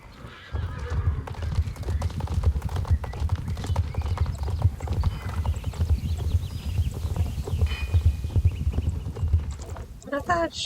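Hooves clip-clop steadily as a horse pulls a trailer in the online horse-riding game Star Stable Online, with a whinny and game sounds layered over the continuous loud hoofbeats.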